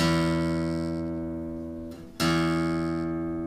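The guitar's low sixth string, tuned to E, rings out as a sustained, harmonically rich note that slowly fades, then is plucked again near the end and rings on, close and clear with no other sounds.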